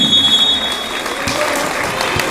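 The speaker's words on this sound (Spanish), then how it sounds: "Y los aplausos, ¿dónde están?" Spectators applaud at a school football match, a steady dense clatter of many hands filling the whole stretch, loud and close, with a faint high electronic tone fading out early on.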